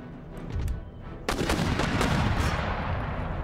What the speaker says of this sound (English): gunners just bombard the cavalry